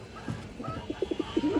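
An old-breed chila pigeon coos close by, a short run of soft, low, rhythmic coos that quicken toward the end, heard alone against a quiet background.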